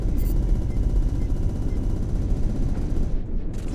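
Spaceship weapons firing in SpaceBourne 2, a dense rapid barrage of blasts forming a continuous loud rumbling roar that cuts off abruptly near the end.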